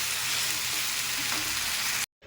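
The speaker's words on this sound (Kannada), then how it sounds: "ಸ್ವಲ್ಪ ಫಸ್ಟಿಗೆ ಬೆಂಡೆಕಾಯಿ ಸ್ವಲ್ಪ ಫ್ರೈ ಆಗಬೇಕು" Continuous hissing sizzle of okra frying in a pan, steady and close, then cutting off abruptly near the end.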